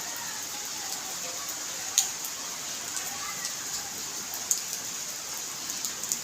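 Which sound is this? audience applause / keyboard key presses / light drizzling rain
light drizzling rain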